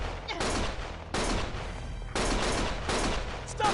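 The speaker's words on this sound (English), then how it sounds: "Stop shooting!" Loud, continuous automatic gunfire from a video game shootout rattles in dense bursts, with barely a pause between volleys.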